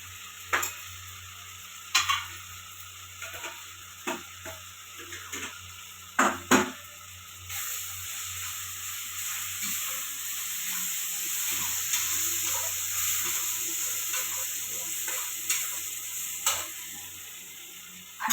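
Coriander powder, turmeric and garam masala sizzle in hot oil in a pan for a Maharashtrian potato curry, a soft steady frying hiss broken by sharp clinks and scrapes of stirring, close and fairly quiet.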